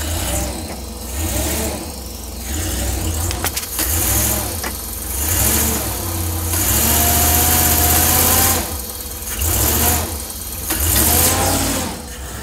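A 454 Chevy V8 in a 36-foot Monaco motorcoach, long abandoned, runs steadily as the coach drives off. The engine drones loud and close, swelling and easing as it revs, with mechanical rattles over the top.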